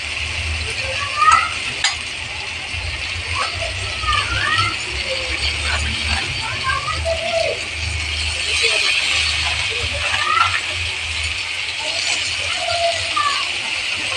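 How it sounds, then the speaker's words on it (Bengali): Prawns and shredded cabbage fry in a pan while being stirred, giving a steady close sizzle overlaid with repeated scraping, clicking strokes of a spatula against the pan. "চিংড়িগুলো আরেকটু ভেজে নিচ্ছি। এবারে বাঁধাকপিটাকে একটু একটু করে মেশাবো।"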